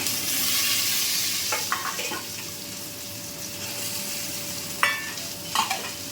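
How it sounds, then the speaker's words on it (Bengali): Vegetables sizzle steadily in a hot pan for Bengali neem jhol, a continuous bright frying hiss with a few stirring scrapes and clinks partway through, no voices. "এবার আমি এতে বাকি সবজিগুলো সব ঢেলে দেবো"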